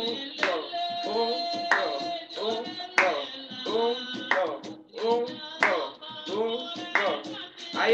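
Rhythmic palm clapping in a folk dance class, crisp claps on the beat mixed with music and a voice speaking between them, close and moderately loud.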